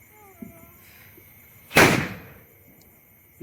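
A single sharp Diwali firecracker bomb bursts with a loud, close bang and a short decaying rumble, set against a quiet night with a faint pop beforehand.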